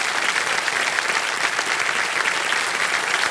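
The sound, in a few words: studio audience applause on a quiz show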